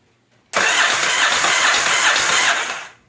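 A Yamaha XV920 Virago motorcycle engine cranks steadily for about two and a half seconds without catching, a loud continuous whirring churn that cuts off abruptly into silence.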